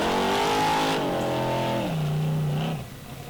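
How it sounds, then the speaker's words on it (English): A 434 Chevrolet carbureted engine in an offroad race car at a Formula Offroad event roars loudly and close, holding high revs before its pitch drops sharply as the engine eases off near the end. "think it's 434 Chevrolet engine in the car with the carburetor"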